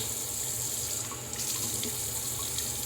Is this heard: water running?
yes